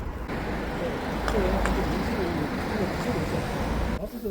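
A street fountain waterfall in the town of Yesan, near the market, splashes with a steady broad rush of falling water at night. It is joined by faint voices and distant street noise.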